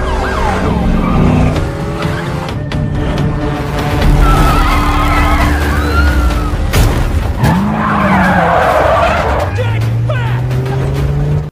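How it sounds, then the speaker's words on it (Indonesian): Several police cars chase a vehicle in a film, with tires skidding and sirens wailing amid loud, dense action sound. Voices are heard over the chaos throughout. "Lalu beberapa mobil polisi terlihat mengejar mereka"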